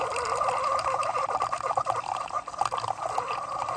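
Almond milk and heavy whipping cream are poured into a cup, producing a steady liquid trickle and splash that lasts a few seconds, close and moderately loud, with no talking.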